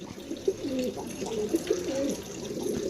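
Domestic pigeons of a single breed, kept in one household loft, coo in soft, throaty repeated phrases that overlap steadily at close range, with a faint trickle of water in the background.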